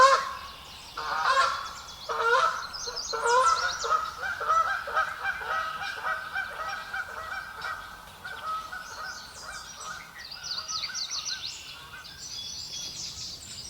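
Canada geese honking in a loose, repeated series, busy overlapping calls at moderate distance with no talk.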